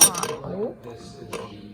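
Heavy cast iron pots clank and knock as they are handled in an Amish community setting, with a few close metallic clinks and scrapes in a short burst, then quieter rattling.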